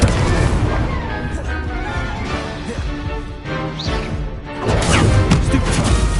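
The Incendio fire spell from the video game Hogwarts Legacy goes off amid heavy, continuous combat noise, with loud crashing, booming impacts and whooshes and a brief lull before another loud surge.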